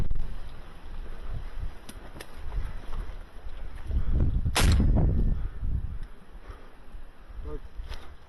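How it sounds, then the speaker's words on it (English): A grenade dropped inside a structure in a Ukrainian drone strike bursts as one sharp, loud blast in mid-clip with a rumbling tail, set against wind noise and faint earlier pops. "Okay, one more grenade inside. The final grenade"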